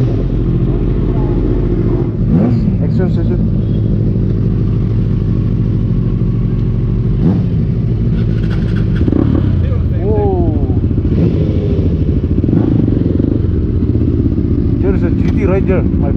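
Kawasaki Z800 motorcycle ridden at night through a festive crowd, with a steady loud engine drone and occasional revs and clatter, while people talk and shout over it.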